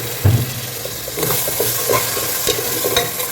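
Ginger paste stirred into well-browned onions frying in a pot for beef biryani: steady loud sizzling with scraping spoon strokes and bursts of hissing, close up and continuous.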